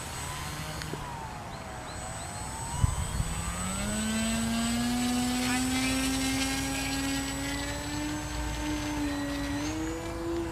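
E-Flite Timber RC airplane taking off from a river in the early morning, its electric motor whine rising steadily in pitch and loudness as it climbs away, with faint voices in the background.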